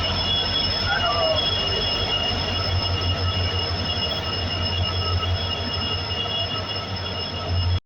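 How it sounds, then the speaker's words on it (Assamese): A passenger train pulls into a foggy station with a continuous, loud rumble and high, sustained wheel squealing, nearby and steady until it cuts off. "ট্ৰেইনখন আহি আছে, ট্ৰেইনখন দেখা পাইছে।"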